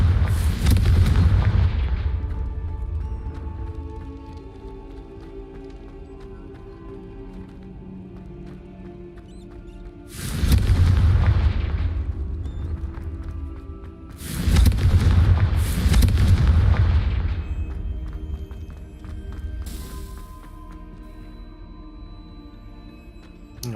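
Confringo fire spell explosions in the Hogwarts Legacy video game: four loud booming blasts, one near the start, one around ten seconds in and two close together around fifteen seconds, with a fainter burst near twenty seconds, each followed by a rumbling decay over a steady game soundtrack.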